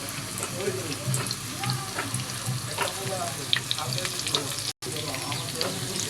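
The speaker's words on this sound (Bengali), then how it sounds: "এভাবে আমি একটু উল্টা পাল্টা ভেজে নেব" Dried shrimp fritters frying in oil, a close bubbling sizzle with light crackles, a voice murmuring underneath and a brief dropout near the end.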